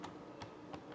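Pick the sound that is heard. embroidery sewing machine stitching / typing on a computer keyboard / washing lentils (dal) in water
typing on a computer keyboard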